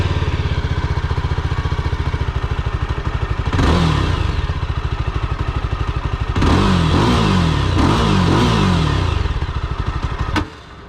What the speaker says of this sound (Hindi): dual barrel exhaust note की वजह से कुछ change होता है साउंड में?